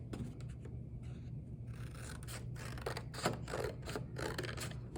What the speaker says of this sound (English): So I cut out a triangle